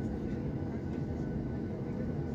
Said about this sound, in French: L'avion está a recuar um pouco.